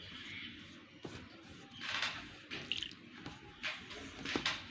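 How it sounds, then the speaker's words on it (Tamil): Water is poured into onion samosa dough, which is then squeezed by hand. Soft, faint wet squishes and drips come in irregular bursts, close up and quiet, with no one talking. "தேவையான அளவு தண்ணி ஊற்றி பிழிஞ்சிக்கலாம்."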